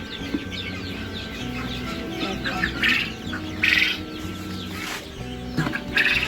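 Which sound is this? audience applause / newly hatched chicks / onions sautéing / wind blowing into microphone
newly hatched chicks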